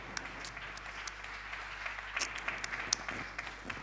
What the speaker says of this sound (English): a great round of applause to you as well